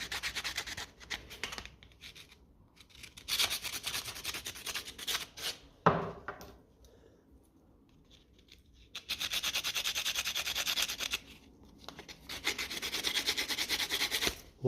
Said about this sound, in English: Maybe a bigger, chunkier bit of sandpaper. Just give them a bit of a clean.